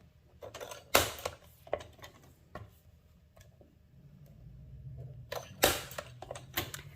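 Paper pieces being cut for scrapbook pages, a few sharp close snips and crisp clicks spaced apart in a quiet room, with soft handling rustles between them.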